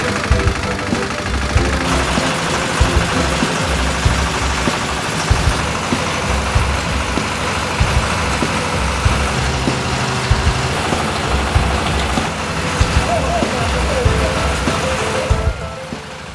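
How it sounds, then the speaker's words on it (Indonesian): A feed mixer machine churning a cattle fattening ration, a steady loud motor drone with mechanical rattling running throughout, close by, with faint voices now and then. "Pencampuran bahan ransum pakan dapat dilakukan dengan menggunakan mesin mixer"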